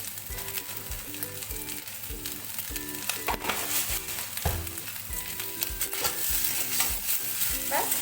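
Jeera rice being stirred in a pan, a spoon scraping and knocking against the metal in a repeated rhythm over a soft background sizzle, close and fairly quiet.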